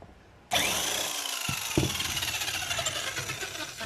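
Power tool whirring into action abruptly while a bolt is removed from a car seat, a loud sustained buzz with a sharp click partway in, then a slowly wavering drone.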